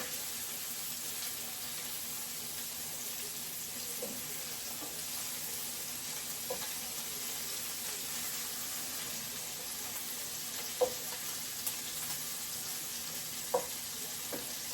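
Swedish meatballs frying in a pan, a steady, dense sizzle that continues throughout, with occasional faint clicks and small knocks from the kitchen.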